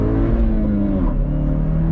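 Chevrolet Camaro LS, 2022 model, pulling away in first gear on throttle, a close, steady engine drone with a brief tire chirp buried in the mix, no voices over it.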